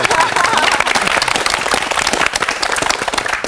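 Lecture audience clapping, a dense, steady patter of many hands at close range filling the whole stretch without a break.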